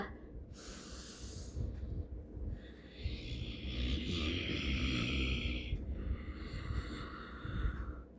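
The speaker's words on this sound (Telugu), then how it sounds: "లాంగ్ బ్రెత్ తీసుకోండి ఊపిరి" Deep, slow breaths drawn in and let out during a breathing exercise, each breath a soft airy rush that swells and fades, close and fairly quiet, with no talking.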